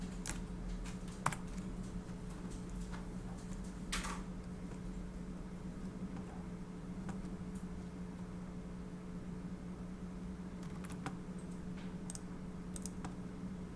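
Typing on a computer keyboard in a classroom, with backspace presses: a few scattered sharp key clicks, quiet and irregular, over a steady fan hum.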